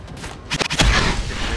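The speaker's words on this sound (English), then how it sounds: "Double the explosions!" A burst of rapid, booming blasts from the video game Atlas Reactor, several explosions rolling together loudly with a dense rumbling tail.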